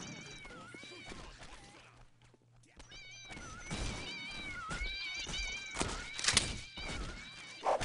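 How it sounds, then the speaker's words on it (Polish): Cats meow repeatedly in a video game, with thuds of falling bodies and a brief yowl mixed into a busy, fairly loud game soundscape; a voice talks over parts of it. "Koty spadają, tu się dzieje wszystko"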